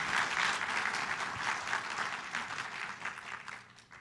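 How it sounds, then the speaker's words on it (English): A room full of audience members applauds for Dr. Oz at a health technology anniversary event, steady clapping at moderate volume that gradually thins and fades toward the end. "please join me in a round of applause for the great Dr."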